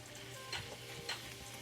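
Peeled shrimp dropped into a sizzling rice mixture in a hot pan for shrimp fried rice, a steady quiet fry with two brief louder hisses as pieces hit the pan.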